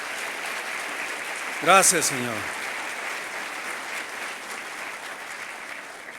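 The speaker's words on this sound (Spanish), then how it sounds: "Dale un aplauso al Dios que todo lo sabe." Steady applause from a church congregation fills the whole stretch, with a voice briefly speaking over it early on before the clapping continues evenly.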